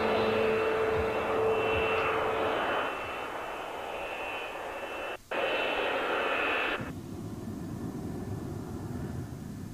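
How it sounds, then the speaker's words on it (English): Several F-15 fighter jets fly on a NATO training exercise, a loud continuous engine roar that shifts in tone partway through, with a brief dropout, then settles into a lower, steadier rumble. "Here, several F-15s go on a standard NATO exercise, pitting their aircraft's capabilities against other Allied planes."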